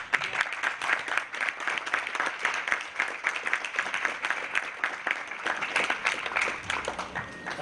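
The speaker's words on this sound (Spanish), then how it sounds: "Démosle un aplauso, por favor." A seated audience at a political event applauds in a steady, fairly even clatter of many hands, sustained throughout at a moderate distance with no voices standing out.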